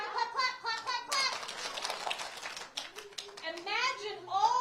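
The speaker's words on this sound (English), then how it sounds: "Clap." Children clap their hands at an outdoor book giveaway event, a brief burst of scattered claps amid lively kid chatter and an adult voice.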